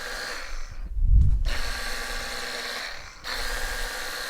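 Ryobi cordless pressure washer with an attachment fitted, running in a steady high whine with a low thump near the start, a brief dip in the noise, then resuming continuously.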